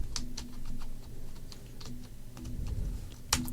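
Fingers tap out a prompt on a computer keyboard in a steady run of close, crisp keystrokes with uneven spacing, ending on a sharper clack.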